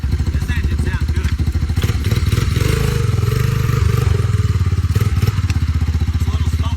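A Honda Big Red three-wheeler engine idles steadily close by, a fast even thumping pulse with a slight rev in the middle, running smoky on worn tires.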